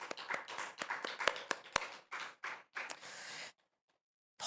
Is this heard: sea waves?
no